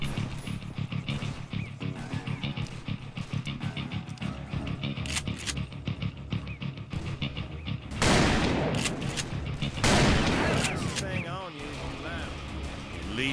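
Gunfire in the Wild West shooter Call of Juarez: Bound in Blood, with repeated shots crackling under game music and character dialogue, then a louder burst of intense firing near the middle before the action quiets.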